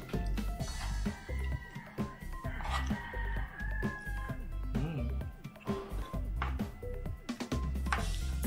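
A rooster crows loudly nearby on a street corner in Bacolod, Philippines, with other chickens clucking around it and a busy mix of background sounds.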